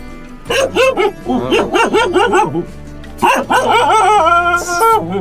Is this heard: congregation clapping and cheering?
no